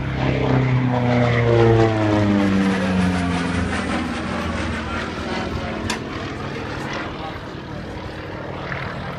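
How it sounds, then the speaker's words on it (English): A Pitts Model 12 aerobatic propeller plane roars past close by, its engine note loud at first, then dropping in pitch and fading as it moves away. "Airplane comes through here so fast."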